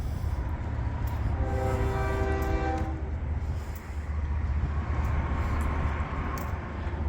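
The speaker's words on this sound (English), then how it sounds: "Yeah, that might be the work train here." A work train rumbles past with a steady low engine drone and rolling noise, while its horn sounds in a sustained, loud multi-tone blast for about two seconds early on.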